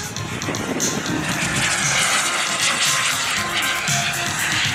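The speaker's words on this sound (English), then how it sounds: "So this is a turbine foam jet." A turbine-powered HSD Viper foam model jet flies overhead, its high-pitched turbine whine loud and steady with a rushing jet roar throughout, swelling slightly as it passes.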